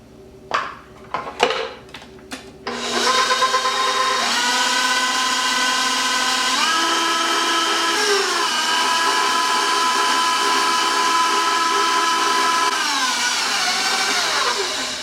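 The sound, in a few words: electric mixer mixing pumpkin pie filling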